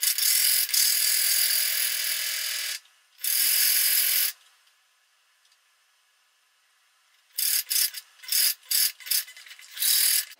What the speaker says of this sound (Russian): теперь вот сошью их на швейной машине